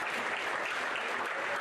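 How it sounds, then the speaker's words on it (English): Banquet audience at a high school spring sports banquet claps steadily, a dense, even wash of applause throughout. "so a nice round of applause for those ladies."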